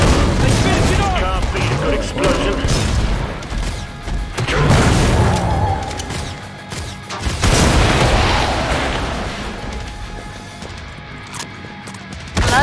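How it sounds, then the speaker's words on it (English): Explosions and gunfire from the video game Killing Floor 2 crash and boom in dense heavy bursts, loud and chaotic, with a big blast midway and more near the end, while voices talk throughout. "Explosion."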